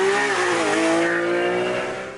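A 2014 Porsche 911 GT3 of the 991 generation with a 3.8-litre direct-injection flat-six, its engine note loud and close, rising and shifting in pitch as the car drives hard, fading slightly at the end.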